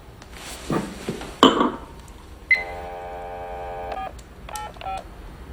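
A telephone keypad dials a number: a few clicks, then a steady tone and two short bursts of dual-tone beeps, close and clear with no talk over them.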